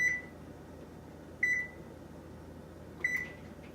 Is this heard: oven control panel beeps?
yes